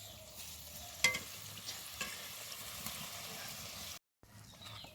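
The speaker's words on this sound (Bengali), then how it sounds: "দেখো ফুচকাগুলো কিন্তু খুব সুন্দরভাবে ভাজা হয়ে গেছে।" A quiet, steady sizzle of puffed fuchka puris frying in oil with a few soft clinks, continuous, then briefly cutting out near the end.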